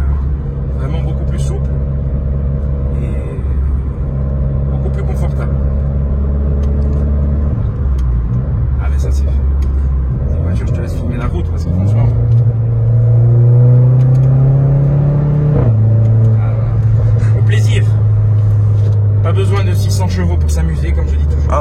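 Renault Clio 4 R.S. engine droning steadily while driving, with a low rumble that rises in pitch around the middle as it accelerates, heard under continuous conversation inside the car.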